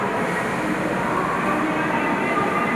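Train at Bhubaneswar railway station, a steady, even rumble of rolling carriages and rail noise holding at a constant level throughout, with no talk.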